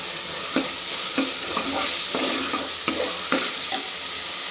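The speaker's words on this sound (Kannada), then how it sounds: "ಇದ್ರ ಜೊತೆಗೆ ಬೀಟ್ರೂಟ್ನ ಆ್ಯಡ್ ಮಾಡ್ಕೊತೀವಿ ಒಂದು 2 ನಿಮಿಷ ಅಷ್ಟೇ." Beetroot frying with ground masala in a pan crackles in a constant sizzle, broken by regular scraping strokes of a spoon roughly every half second, close and fairly loud with no talking.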